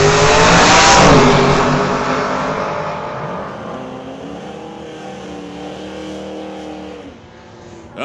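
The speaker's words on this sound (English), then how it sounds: "Now it's John McLean with the Ford Falcon from 1969 against the Just Mechanical ANA 1963 Pontiac of Ray Bollinger." Drag race between a 1969 Ford Falcon and a 1963 Pontiac: loud engines roar close at the start, then fade as the cars pull away, a steady motor drone trailing off near the end.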